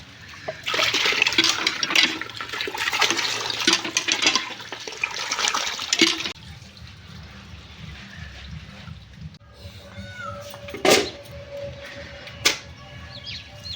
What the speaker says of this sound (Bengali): এইখানে কলাইগুলোকে ঠিকঠাকভাবে ধুয়ে নেওয়া হচ্ছে